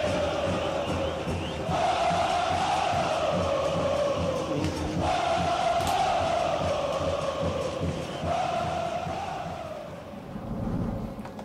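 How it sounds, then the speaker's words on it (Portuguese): Paysandu and Remo football fans chant together in a packed stadium, a massive roaring crowd with rising and falling surges of voices that fade near the end. "esse foi o vídeo da torcida do Paysandu versus torcida do Remo"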